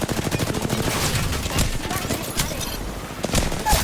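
Dense rapid gunfire in the video game Apex Legends, loud continuous automatic bursts and overlapping shots that fill the whole stretch, with game voice lines partly under the shooting.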